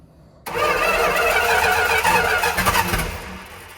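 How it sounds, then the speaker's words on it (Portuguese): An old Dodge engine, started after more than a decade, cranks and catches with a sudden loud mechanical roar, runs rough for a few seconds with uneven surges, then fades as it dies. "o motor morre, demora para ela acender de novo, porque ainda tem pressão lá"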